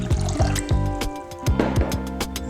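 Water splashing and pouring into a chicken marinade of apple cider vinegar, with irregular plops and drips close by, a few distinct splashes among trickling sounds, no voices.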